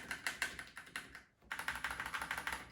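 Rapid clicking of Razer mechanical keyboard keys in quick bursts, close up, with a short pause midway before the typing resumes.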